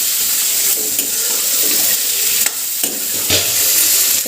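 Peas with butter being stir-fried for matar paneer, a loud continuous sizzle with a spoon scraping and stirring through the pan in uneven strokes, close up with no voices.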